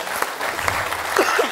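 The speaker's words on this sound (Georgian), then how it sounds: "აპლოდისმენტები." A studio audience on a Georgian comedy game show applauds, a dense, steady patter of clapping throughout, with a few faint voices mixed in near the end.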